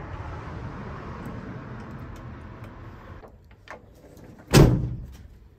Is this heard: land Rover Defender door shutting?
yes